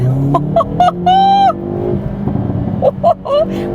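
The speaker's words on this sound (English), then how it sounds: "Let's put you into N mode, and let's floor it." A Hyundai i30N hot hatch floored at full throttle in N mode: a loud, close engine drone rises underneath, broken by several sharp tonal bursts and pops.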